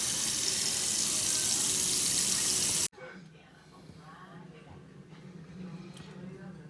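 Hot water gushing steadily from a kitchen faucet, a loud, close, broad hiss that cuts off suddenly, followed by quieter room sounds and faint handling noises.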